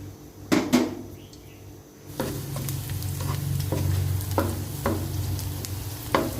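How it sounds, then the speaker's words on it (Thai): Pumpkin and egg are stir-fried in a pan with a couple of sharp utensil knocks at first, then a steady close sizzle and repeated scraping stirs at irregular intervals, with no talking. "ผัดฟักทองใส่ไข่ค่ะ"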